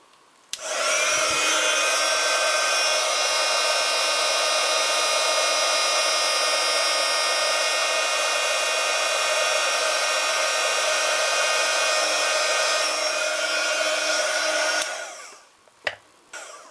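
A heat gun blows steadily on embossing powder for a scrapbooking piece, a loud continuous whirring hiss lasting about fourteen seconds, then clicking off and leaving near silence.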